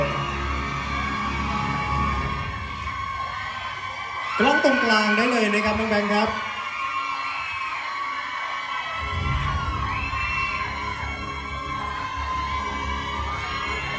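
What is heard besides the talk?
crowd cheering at an award ceremony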